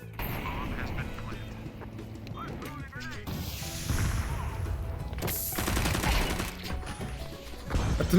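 Bursts of rapid automatic machine gun fire in Counter-Strike 2 mix with other game noises and a man's speech, growing louder toward the end.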